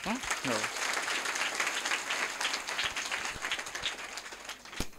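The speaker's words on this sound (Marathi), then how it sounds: "त्यासाठी महाराज नक्कीच टाळ्या झाल्या पाहिजे" An audience claps in steady applause at a gurukul ceremony, dense and sustained throughout, with a voice speaking briefly at the start.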